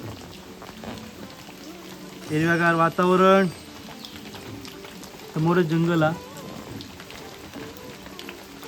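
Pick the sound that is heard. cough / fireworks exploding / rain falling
rain falling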